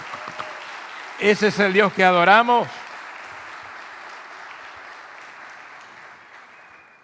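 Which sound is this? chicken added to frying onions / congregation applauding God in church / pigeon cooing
congregation applauding God in church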